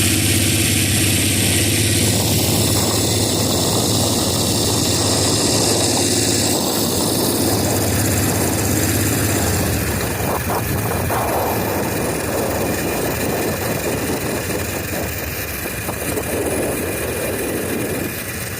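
An 18 HP V-twin minibike engine running close up, a loud, rough, steady chugging drone with shifts in pitch as the throttle changes, mixed with gusty wind noise.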